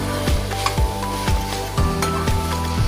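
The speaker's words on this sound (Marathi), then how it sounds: "आता मी त्यामध्ये हे काजूचे तुकडे टाकणार आहे आणि त्याला असं पुन्हा व्यवस्थित मिक्स करून घेणार आहे" Cashew pieces stirred into chicken curry masala sizzling in a pan, with a steady close sizzle broken by regular scraping strokes of the spoon, and no talking.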